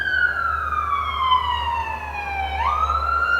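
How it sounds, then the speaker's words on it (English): A fire truck siren wails as it passes, one long tone sliding down and then swinging back up, fairly loud over a low steady rumble. "That's the fire truck, child."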